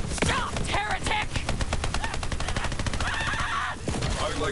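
Rapid video-game gunfire rattles in dense bursts for several seconds, loud and continuous, with game sounds layered beneath the shots.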